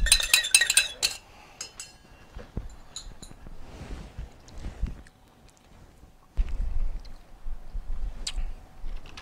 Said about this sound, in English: we are going to stick a spoon in here